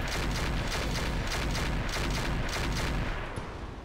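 AC-20 autocannon firing in the mech game Roguetech, a sustained close barrage of heavy rapid booming shots in quick rhythm that fades slightly at the end.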